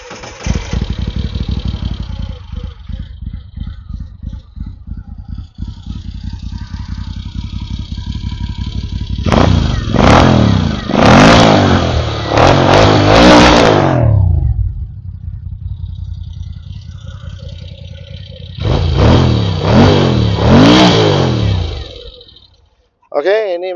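A 2016 Moto Guzzi V7 Special custom motorcycle with full accessories starts and settles into a loping idle, then gets two bursts of sharp revving, loud and close, and cuts off at the end.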